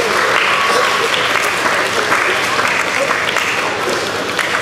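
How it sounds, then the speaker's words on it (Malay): A hall audience applauds at a religious talk in Bandar Uda Utama, Johor, in steady, dense clapping that stays loud and even throughout with no pauses. "tepukan kepada diri sendiri"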